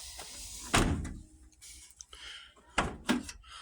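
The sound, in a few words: Chevy truck rear door opened after handle repair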